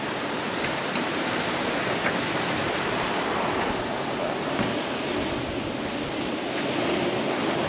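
Continuous wash of ocean waves around a sailing boat running downwind near Antigua in moderate wind, a steady broad rushing roar with no distinct breaks, close and fairly loud throughout.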